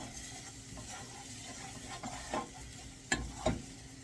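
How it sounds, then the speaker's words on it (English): Tomatoes cooking in a pan being given a good stir: a soft background sizzle broken by a few sharper scrapes and clinks of the utensil against the pan bottom, close by, with no talking. "let's give this a good stir"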